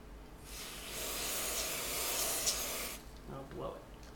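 Freeze spray hisses steadily onto an iPhone circuit board for about two and a half seconds, a close, broad airy rush that then cuts off, followed by quieter handling.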